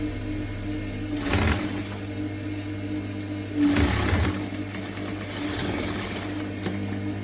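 A sewing machine stitching a stretchy net neckline runs in two short bursts of rapid mechanical whirring, the second slightly longer, with a quieter steady hum and faint handling sounds in between.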